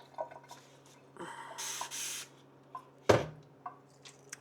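Plant cuttings are handled and dropped into water indoors: a few soft drips and small splashes, then a brief rushing pour and one sharper splash, with quiet gaps in between.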